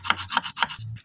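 Metal file worked by hand over a motorcycle clutch part, four quick rasping strokes in a brisk rhythm, close and fairly soft.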